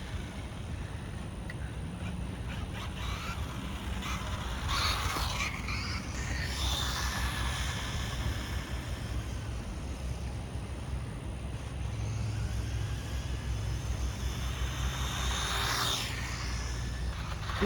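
A brushless motor in a WPL D12-bodied SG-1604 RC car cogs at quarter throttle, giving a steady, rough, whirring drone with a few brighter surges, close and continuous throughout.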